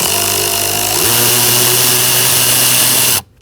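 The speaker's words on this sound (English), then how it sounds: "Using an 8mm socket and an extension," A power tool with an 8mm socket and extension whines loudly at steady pitch, stepping up in speed after a second, while unscrewing HVAC blower motor bolts on a 2000-2007 Ford Taurus, then stops abruptly.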